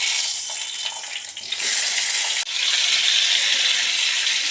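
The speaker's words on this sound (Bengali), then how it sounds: "এবার পটলগুলো ছেড়ে দেব।" Pointed gourds dropped into hot refined and mustard oil in a kadai, a loud hissing sizzle that dips briefly and then surges back, continuous and close.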